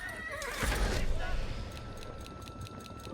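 A horse whinnies loudly with a rising, shaky call in Age of Empires IV, followed by rhythmic hoof clatter and a steady low rumble of game ambience.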